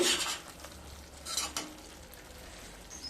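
A spoon stirs milk drumstick curry enriched with ghee in a pan, with a few scraping strokes and a soft, steady sizzle beneath, moderately close and without voices.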